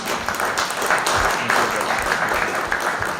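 An audience at a campaign meeting applauds Dawid Jackiewicz, a Law and Justice (PiS) candidate for the European Parliament, with steady, dense clapping throughout that swells slightly in places.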